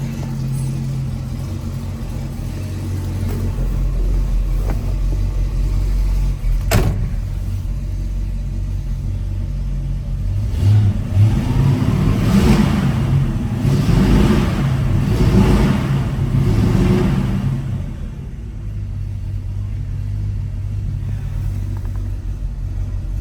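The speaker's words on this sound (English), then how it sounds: "Sounds really throaty. Dual exhaust is just really great on these." A 1965 Chevy El Camino with dual exhaust runs on a cold start, a deep, steady, throaty rumble heard close up. A single sharp click breaks in early, and the note swells slightly in the middle before settling back to idle.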